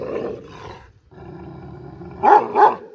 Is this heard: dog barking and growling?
yes